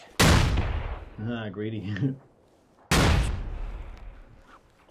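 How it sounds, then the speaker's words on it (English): Grenades go off in the battle game PUBG as two heavy, booming explosions a few seconds apart, each with a long rumbling decay, and a voice talks briefly between the blasts. "Oh, he's throwing grenades."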